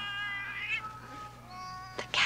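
A cat meows in long, drawn-out wails, rising and bending in pitch, then a sharper cry breaks out near the end, fairly close and clear.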